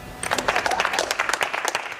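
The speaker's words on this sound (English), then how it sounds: "Traditionally, retiring horses are clapped off the yard by their troop." A cavalry troop claps a retiring horse off the yard, a brisk, close burst of many hands clapping in quick uneven rhythm.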